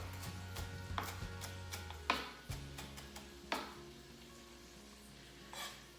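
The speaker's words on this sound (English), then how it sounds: "I'm gonna keep chopping this up." Several sharp knife chops through onions on a cutting board, spaced irregularly, with a faint low hum in the background.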